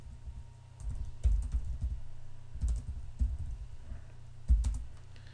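Someone types on a computer keyboard up close, quick clustered bursts of clattering keystrokes separated by short pauses.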